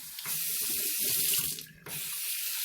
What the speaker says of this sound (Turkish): Durulamaya geçiyoruz değil mi?